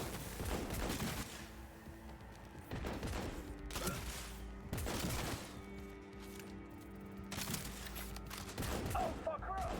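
Heavy gunfire from the video game Cyberpunk, a dense fusillade of rapid shots and bursts that keeps going through the whole stretch, loud and close, with shouting voices over it.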